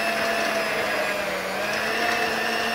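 An electric hand mixer beats batter for nevaditos in a home kitchen, its motor a steady, loud whir with a constant hum that holds unchanged throughout, with no voices.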